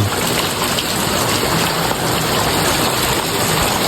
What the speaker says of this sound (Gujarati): અત્યારે વરસાદ આવે છે મસ્ત રીતે ફાસ્ટ